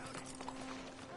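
Steady clip-clopping hoofbeats from a horse at a walking pace in Red Dead Redemption, quiet and even, with a faint constant hum beneath.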